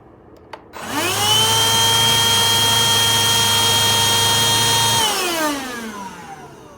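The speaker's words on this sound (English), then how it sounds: "So this is what this little vacuum looks like." A Powools cordless handheld pet hair vacuum switches on with a click, runs at a loud, steady high-pitched whine for about four seconds, then shuts off and winds down.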